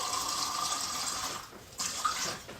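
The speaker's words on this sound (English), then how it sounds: "I'm just going to put some water in here" Water poured into a container while cooking Jamaican bammy from scratch, a soft steady splashing stream at close range that thins and stops near the end.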